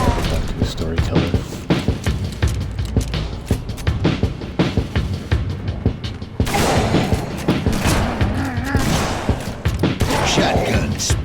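Repeated shotgun blasts in a Halo Reach Firefight match, loud booming shots with mechanical clatter and thuds, densely layered under speech and game noise throughout.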